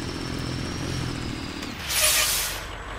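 A semi truck's air brakes in a video game under development release a sharp, loud burst of hissing air partway through, over a steady low engine rumble.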